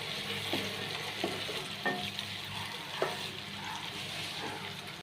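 Tomatoes being stirred into a sizzling ginger-garlic paste tempering in a pan. A steady fry hiss runs underneath, broken by several sharp spoon scrapes at irregular intervals, with no talking.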